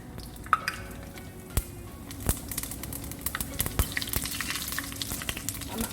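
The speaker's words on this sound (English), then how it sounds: "Now I'm adding 1 tablespoon of cumin seeds." Cumin seeds sizzle and crackle in hot ghee, a steady fry hiss broken by sharp pops and occasional stirring close by.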